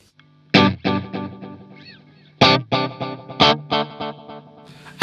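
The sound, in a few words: guitar through Nux Cerberus pedal's 80s delay effect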